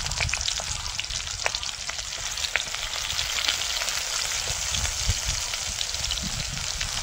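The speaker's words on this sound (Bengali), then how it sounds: "পেঁয়াজটা একটু লাল করে ভেজে নেব" Chopped onion fries with five-spice in oil in a wok, giving a close, steady sizzle scattered with sharp crackles and pops throughout, with no voices.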